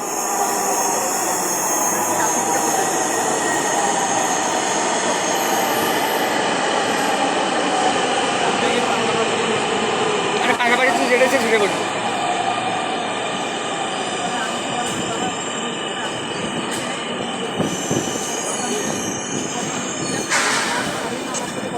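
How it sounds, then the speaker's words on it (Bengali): A Dhaka metro rail train pulling into an elevated station, a loud, continuous rumble of wheels with metallic squeals and whines that lasts throughout, close by. "একটুর মধ্যে আমাদের মেট্রো রেল চলে আসলো"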